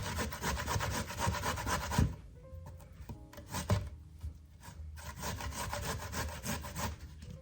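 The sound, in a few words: grating zucchini into a bowl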